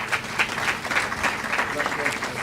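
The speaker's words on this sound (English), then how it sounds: "If you want to clap, please clap." An audience claps at a conservation foundation memorial lecture in Nigeria, a dense, steady patter of applause that mixes with speech.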